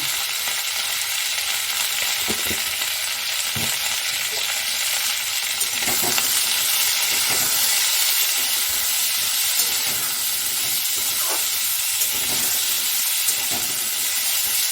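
Vegetables sizzling in a hot pan with turmeric and salt while being stirred, a steady bright hiss of frying with scattered scraping and knocking from the stirring utensil.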